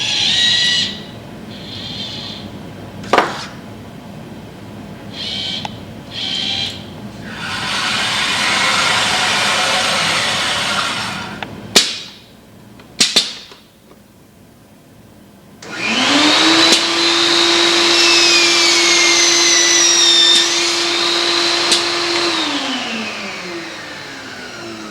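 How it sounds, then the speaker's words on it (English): A robotic workcell flips and drills a pen holder block, with a loud, steady motor whine running for stretches, broken by sharp clanks and pauses, then a rising drill-like tone that holds before winding down; no speech. "Robot is now flipping it over for the fourth hole to be drilled."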